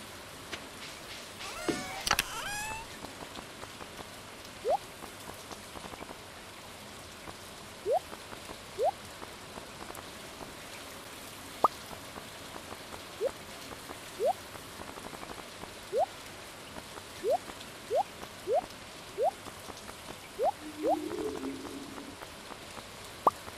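Rain in the Stardew Valley video game makes a soft, steady patter, with regular light ticking sounds over it and a brief louder sweep near the start.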